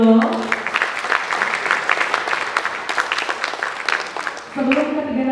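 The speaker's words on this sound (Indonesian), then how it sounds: "beri tepuk tangan dulu" Audience at an East Java BKKBN event in a hotel in Jember applauding three panel speakers, a sustained wash of clapping through most of the clip, with a host's voice briefly before and after it.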